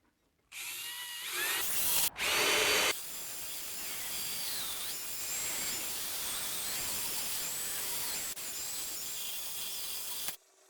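A power drill grinds steadily into a CB Performance reverse intake manifold port on a 1956 Volkswagen Beetle ragtop, loud and close, running almost continuously for about ten seconds after a brief higher-pitched burst near the start.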